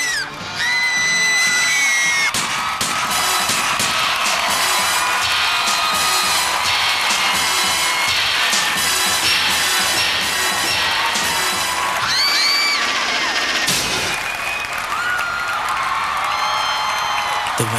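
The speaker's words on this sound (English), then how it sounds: "Please welcome them with a great round of applause." A school audience at an annual cultural event cheers, whoops and yells loudly and continuously, a dense crowd roar with music-like tones woven through it.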